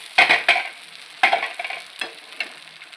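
Puran poli flatbread sizzles on a hot pan, with sharp hissing bursts as it is laid down and pressed, fading between a few close, distinct spurts.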